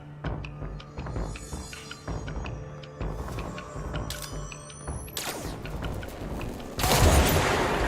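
Rapid gunfire in the video game Control, with continuous bursts of shots and booming impacts over a layered game soundscape, building to a loud blast near the end.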